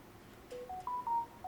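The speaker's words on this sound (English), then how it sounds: "sorry I'm getting text messages." A phone gives off a quick string of clean electronic tones for text message alerts, five short beeps stepping up and down in pitch, fairly faint.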